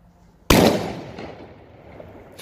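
A loud New Year's Eve firework bang goes off close by, a single sharp blast followed by a long decaying crackle and echo.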